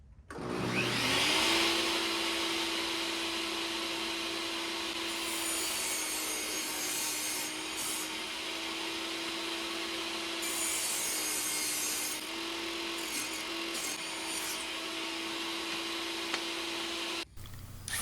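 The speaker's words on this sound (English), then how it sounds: "I'm going to cut a 2 1/4 inch piece of board and cover that up." Power saw cutting through a cedar picket board for a planter box, a sustained loud motor whine with grinding wood noise lasting most of the time before stopping abruptly near the end.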